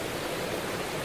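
Steady splashing of a water feature in St Pancras Square, an open city square, heard as a continuous broadband wash of falling water with no voices, fairly even in level throughout.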